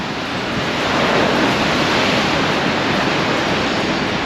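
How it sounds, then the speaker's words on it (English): Ocean surf rolling onto the Mazatlan shoreline in Mexico, a loud, steady broadband wash of breaking waves with some wind buffeting, continuous and without speech. "There's the ocean."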